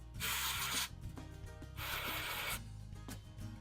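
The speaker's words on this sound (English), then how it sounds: "I'm going to spray the electronic cleaner in there and see what happens" Two long hissing bursts from an aerosol can of electronic cleaner sprayed into a postwar Lionel 2065 Hudson model locomotive, close up, with a shorter spritz near the end and faint mechanical rattling underneath.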